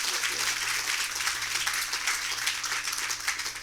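A group of people claps continuously, a dense, even patter of applause at moderate volume with no talking over it.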